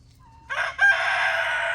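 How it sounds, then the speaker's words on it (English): A rooster crows once, loud and close, in a farmyard where a chicken was taken by raccoons. The crow begins after a short quiet lead-in and holds steady to the end. "See that chicken?"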